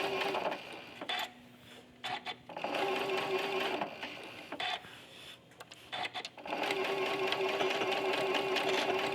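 A quilting sewing machine sews a curved seam with backstitching, its motor humming in steady runs broken by brief stops as the fabric is adjusted, close and moderately quiet.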